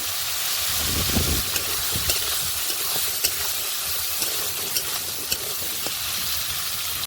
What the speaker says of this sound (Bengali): কেটে রাখা আলুগুলো দিয়ে দেবো, একটু ভেজে নেব